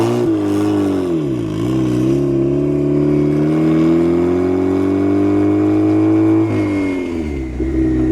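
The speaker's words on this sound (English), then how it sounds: "Dude, that freaking exhaust is nasty." A turbocharged Mazda Miata roars loud and close on a street, its engine and exhaust revving up with rising pitch, dipping briefly, then climbing steadily in a long pull before easing off.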